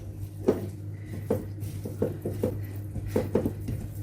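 Boiled cake batter is stirred in a bowl, giving a series of close, soft thick scrapes and wet knocks of the spoon against the bowl in an uneven rhythm over a low steady hum.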